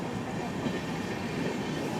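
A steady, dense rumble and rattle fills the carriage of the Okha to Ernakulam passenger express as it rolls into Valsad station, continuous and even, with no voices.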